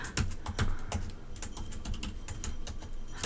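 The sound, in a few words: typing on a computer keyboard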